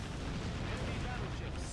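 A ship explodes and sinks in the naval combat video game Warship Gunner 2, producing a dense, sustained rumbling blast that fills the entire short stretch at steady loudness.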